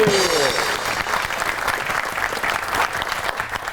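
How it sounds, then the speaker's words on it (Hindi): A studio audience at a Pakistani TV talk show bursts into loud, close applause that holds steady, with a brief tone at the start and a voice briefly underneath. "आपकी बहुत सी तालियों में the real one and only Sajjad जानी।"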